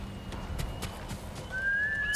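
A horse in the video game Ghost of Tsushima comes in with a series of hoof clip-clops and then a high, drawn-out whinny near the end, fairly clear over a low background rumble.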